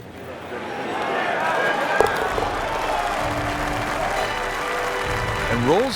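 A golf gallery at Bay Hill applauding and cheering a made putt, a broad, steady wash of clapping and cheers that swells and holds, with voices mixed in.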